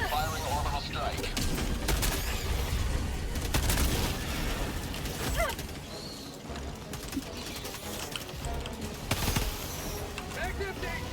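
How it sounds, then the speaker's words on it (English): Orbital strike explosions in the Helldivers 2 video game, heavy booming blasts bursting through a dense, constant bed of gunfire and battle noise, with players talking over the action. "Firing orbital strike."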